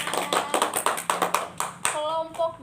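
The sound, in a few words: classroom students clapping hands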